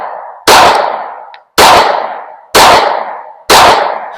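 Four loud, sharp pistol shots at a target, about one second apart, each with a ringing decay echoing around an outdoor range.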